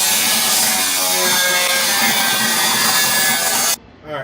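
Metal being cut on a 1971 Chevrolet Nova fender, a loud, continuous harsh grinding rasp right up close that runs steadily for several seconds and then cuts off abruptly, leaving near silence.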